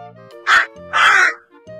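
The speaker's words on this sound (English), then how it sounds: "Crow." A cartoon crow caws twice, harsh and loud up close, the second call longer, over light background music.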